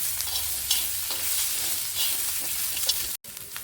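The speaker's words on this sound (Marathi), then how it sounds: "थोडं तेल टाकायचं, तेल टाकून चांगला कांदा परतून घ्यायचा आपल्याला।" Onion sautéing in oil for village-style chicken rassa gives a steady, close sizzle with stirring scrapes throughout, broken by a brief dropout near the end.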